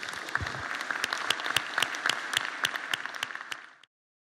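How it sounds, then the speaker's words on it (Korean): An audience applauds a committee chair and members at a Korean political event, a full burst of crowd clapping with sharp individual claps standing out, swelling and then cutting off abruptly near the end. "우리 모두 한번 우리 김한길 위원장님과 위원님들께 박수 한번."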